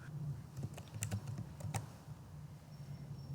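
Typing on a computer keyboard during a Python coding session: a faint scatter of quick key clicks in small bursts over a low background hum, with no speech.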